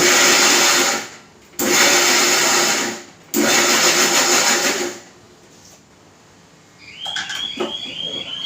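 A mixer grinder whirs loudly as it grinds soaked wheat for chik, running in three strong bursts with brief stops between them, then dropping away to quieter clinking and handling sounds at the end.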